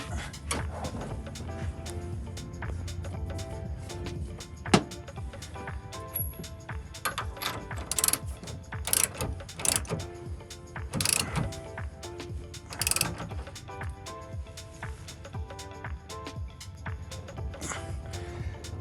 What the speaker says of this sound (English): There's just barely enough room to slide it between the frame and the bolt head in order to tighten it down.